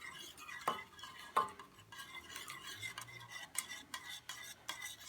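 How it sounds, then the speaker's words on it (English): Beaten eggs are whisked into a maple syrup pie mixture of eggs and butter, a faint close scraping and swishing with two sharp taps of the whisk against the bowl early on. "you're going to keep whisking as you're dropping the eggs in"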